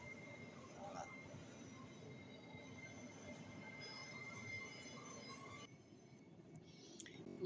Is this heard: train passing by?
yes